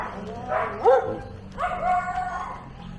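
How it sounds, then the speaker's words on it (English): Dogs bark and yip in a street in the Philippines, two short clustered bursts a moment apart over a low background hum, with a faint whimpering tone, fairly near and moderately loud. "Oh, these stupid barking dogs."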